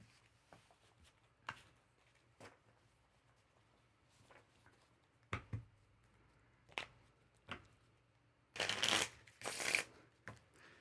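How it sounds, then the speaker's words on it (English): Playing cards are quietly handled and tapped with scattered soft clicks, then riffle shuffled in two loud, close, rapid fluttering bursts near the end. No voices. "I am washing them and then riffle shuffling over and over again"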